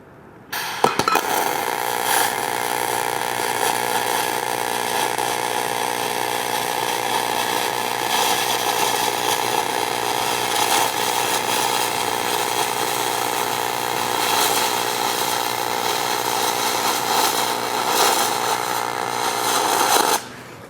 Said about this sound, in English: we're going to start the weld on this first runoff tab, and then weld across the joint and end the weld on the other side